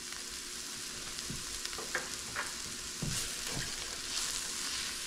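Two tablespoons of flour cook in a hot pan with a steady hiss, as a utensil stirs it with a few soft scrapes and taps.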